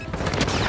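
Rapid video game gunfire in a squad battle royale match, dense loud bursts of shots filling the short moment without pause.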